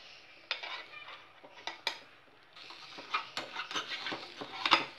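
Onions are stirred in an oiled pan, with a series of clattering scrapes and taps of a metal ladle against the vessel over a faint sizzle, close and irregular.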